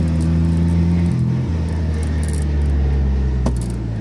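An old car engine idles with a steady, low, throbbing rumble, close by and continuous.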